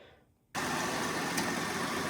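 A Dodge/Jeep 3.6L engine with an AFE cold air intake idles steadily with a broadband airy rush, starting abruptly after a brief quiet moment and holding a constant, close drone.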